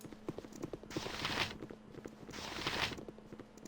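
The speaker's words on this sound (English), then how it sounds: "Just hear our footsteps in the water" Footsteps wading through water in an eerily still setting, a steady rhythm of splashing treads with two longer washes of sloshing water, close and moderately loud.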